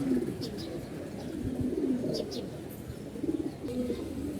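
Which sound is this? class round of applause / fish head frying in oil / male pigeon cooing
male pigeon cooing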